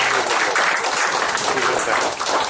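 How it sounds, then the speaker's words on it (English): Applause from an audience at an award function for an essay contest, a dense, steady wash of many hands clapping together, loud and continuous throughout. "really have a round of applause"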